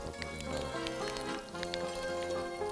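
Onion stewing in rendered pork lard for Hungarian bogrács goulash, giving a soft steady sizzle with scattered small crackles and pops, fairly quiet and continuous, with a faint tonal hum underneath and no talk.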